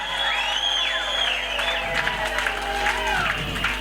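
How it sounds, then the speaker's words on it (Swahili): A church congregation claps and ululates together, with steady applause and high, warbling trilled cries rising and falling over it, loud and sustained throughout. "piga makofi na vigeregere vya hadi ya juu sana"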